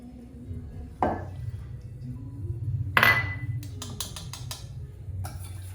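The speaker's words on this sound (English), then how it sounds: "Mix those two up real good" Egg, oil and vanilla being whisked together in a bowl for pink treats, heard as a few sharp clinks and taps of a whisk against the bowl, with a quick cluster of clinks near the end over a low background hum.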